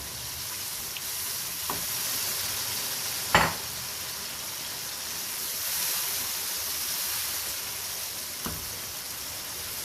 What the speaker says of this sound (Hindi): ये आलू को थोड़ा सा मैं भून लूँ